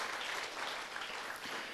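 A church congregation at a prayer and fasting service claps in steady, even applause, many hands together filling the room, heard alone without talk.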